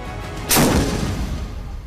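A 155 mm artillery gun fires a single loud, close blast that booms out and then rumbles away over the following second and more.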